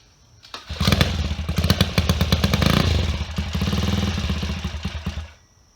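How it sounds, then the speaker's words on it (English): A Phantom Bikes Ghost Classic motorcycle engine fires up and idles with a rapid, uneven clattering putter, loud and close, then cuts off abruptly after a few seconds. "I think the idle might be a little low"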